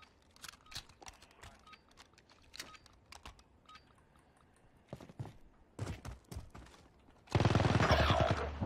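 Gunfire in the video game Call of Duty Modern Warfare during a 2v2 tournament match: scattered sharp shots and short bursts, some fairly close, then a dense, louder barrage of sustained fire at the end.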